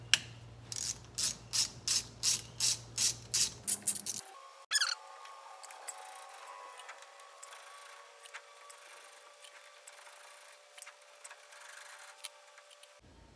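A hand ratchet clicks in a quick, steady series of about a dozen sharp ticks while turning a 1/8 Allen bit socket on rusty bolts of a Jeep CJ5 front wheel bearing assembly, followed by a faint mechanical hum and occasional small clicks.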